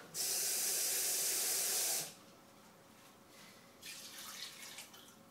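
Water splashed into a hot pot of cooking rice, a loud sharp hiss of steam for about two seconds that cuts off abruptly, followed by quieter sizzling and a second softer burst of bubbling hiss.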